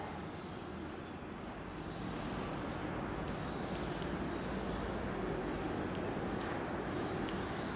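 Pen or pencil scratching numbers for a maths sum on paper, soft close strokes in a quick irregular rhythm over a low steady background hum, with no voice.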